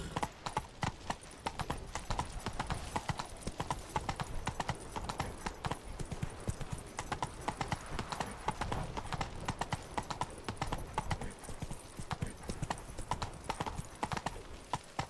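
Horse hooves clip-clopping steadily at a brisk gait in The Witcher 3: Blood and Wine, a continuous rhythmic beat close up with occasional faint snorting.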